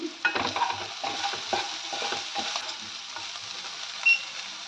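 Onions and garlic frying in a pan, with a steady crackling sizzle and repeated scraping stir strokes close by, and no voices.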